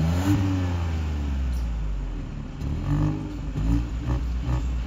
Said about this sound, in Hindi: इस गाड़ी में एग्जॉस्ट है कंपनी से दिया हुआ और आवाज़ करता है।